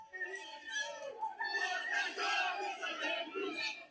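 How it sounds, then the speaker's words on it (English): Football supporters chant and sing loudly together in a tight crowd at an airport, a dense, continuous mass of voices with rhythmic surges. "The guy singing in the middle of the crowd."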